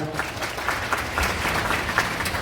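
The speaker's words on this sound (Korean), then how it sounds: "자, 다시 한번 큰 박수 한번 부탁드리겠습니다" Wedding guests in a wedding hall giving the bride and groom another big round of applause: dense, sustained clapping from a crowd at medium distance, steady throughout with no talk on top.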